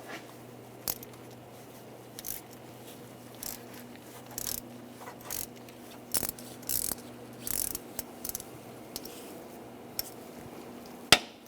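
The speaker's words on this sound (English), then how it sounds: "I'm going to use the 8mm socket, but you can use an E10 socket." An 8mm socket wrench ratchets a bolt out near the thermostat of a 2006-2009 Mercedes-Benz E350, heard as short, close bursts of clicking separated by pauses, with occasional metallic knocks.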